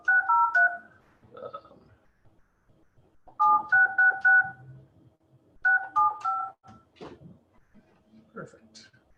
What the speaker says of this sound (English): Using your touchtone phone.